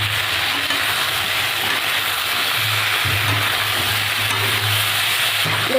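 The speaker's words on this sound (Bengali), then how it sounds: "কলাটাকে একটু ভেজে নেব।" Banana pieces frying in a pan with salt, turmeric and green chillies: a steady, close, loud sizzle throughout with a low hum underneath.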